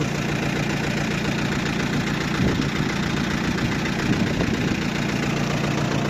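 A Lovol 354e tractor engine idles steadily, a low, rumbling, continuous chug with no voices, close and even throughout.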